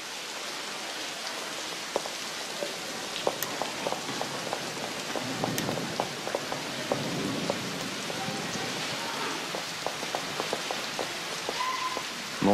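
Heavy thunderstorm rain pours down in a steady, dense hiss, with scattered louder drop impacts and a faint low rumble of thunder beneath the downpour.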